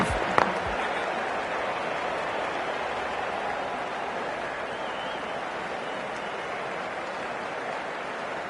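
A stadium crowd in the cricket video game Cricket24 roars and applauds in a broad, steady wash of sound that holds at full level throughout, after a brief sharp knock at the start.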